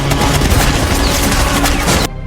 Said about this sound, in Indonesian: Suara tembakan yang terjadi di dalam rangkaian kereta akhirnya terdengar oleh Yegor.